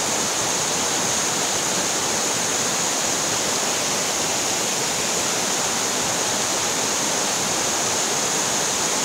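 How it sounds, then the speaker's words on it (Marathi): Strong spring water in Konkan rushes and gushes in a steady, loud, continuous wash of broadband noise, close by, with no talking. "खळखळ असं पाणी वाहत आहे।"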